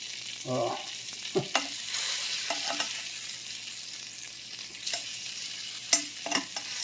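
Chicken pieces fry in a pan for a one-pan Tuscan chicken dish. A soft, steady sizzle runs under several clinks and scrapes as the pieces are turned over near the mic.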